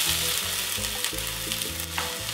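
Vegetables sizzle in hot oil in a pan while a Mexican main dish is cooked, a dense, constant crackling fry close by.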